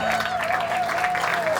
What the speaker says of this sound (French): Est-ce que tu peux acclamer correctement?